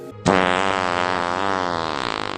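A fart sound effect, one long loud buzzing flatulent blast lasting about two seconds that flutters into a rapid rattling finish, heard alone.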